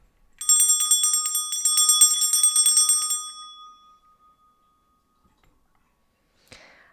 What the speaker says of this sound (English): I'll start by clearing the frequency with this bell.